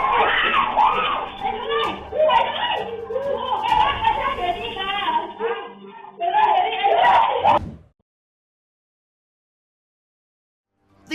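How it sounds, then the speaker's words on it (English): Panicked people scream at a snake that has slithered into a hair salon: loud, shrill, overlapping voices for about eight seconds, then an abrupt cut to silence. "This snake slithered into the hair salon, causing people to scream in panic"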